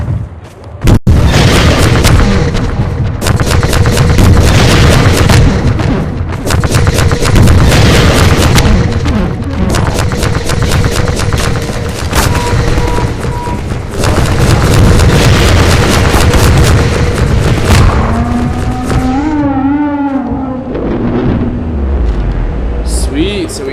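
Loud, dense barrage of weapon fire and heavy booming explosions pounding a Strider in Half-Life 2, with rapid repeated shots running almost continuously and fading into rumbling, whining debris near the end, under occasional talk.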